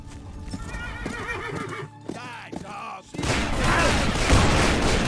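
A horse in the western video game Call of Juarez: Bound in Blood gallops with rapid clip-clop hoofbeats and lets out a loud whinny, while gunfire-like bursts and a dense, noisy game soundscape swell in the second half.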